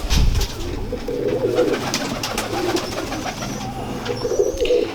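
Sialkoti pigeons coo in low repeated murmuring phrases, close and moderately loud, over a background of wind and rustling noise, with a brief thump at the start and no talk.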